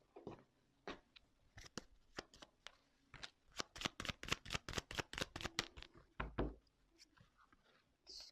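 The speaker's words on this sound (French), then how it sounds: "je vais prendre quelques cartes," Tarot cards being shuffled and drawn, a loud run of quick, crisp riffling bursts that builds into a rapid, steady flurry before tapering off to a few scattered snaps, with no talking.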